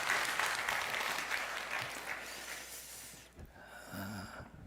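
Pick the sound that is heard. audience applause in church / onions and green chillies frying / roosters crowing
audience applause in church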